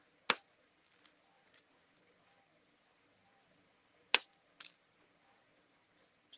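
Wire cutters snip popsicle sticks in half, giving a few sharp, isolated clicks and snaps spaced seconds apart in an otherwise quiet room.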